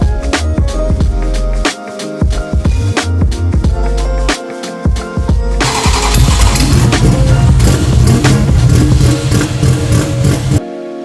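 A BMW M240i engine cranks with rapid clattering bursts, catches, and settles into a loud, steady running roar close by before cutting off.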